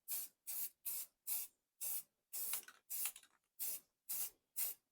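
An aerosol can of automotive filler primer sprays a coat onto a Worthington Ingeco engine head in about ten short hissing bursts with brief gaps, close but fairly quiet.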